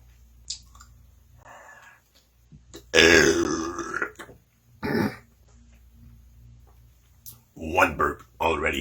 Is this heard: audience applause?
no